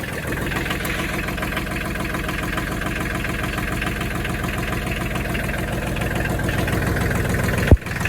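A Kubota L2002 20 hp tractor engine idles steadily nearby with an even, low chugging rhythm, and a short sharp click sounds near the end.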